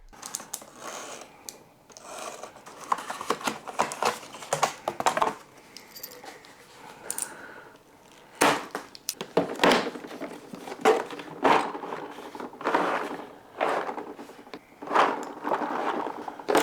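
A Husky 235-piece mechanics tool set in its case being unboxed, with repeated plastic clacks, rattling tools and latch snaps in uneven bursts, close and moderately loud, with no talk.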